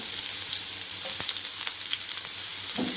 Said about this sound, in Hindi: एक पान, उसमें 2 से 3 टेबलस्पून ऑयल ऐड कर लें। इसके साथ ही हम स्लाइसिस में कटे हुए अदरक ऐड कर देंगे